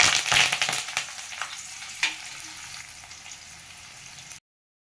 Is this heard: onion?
yes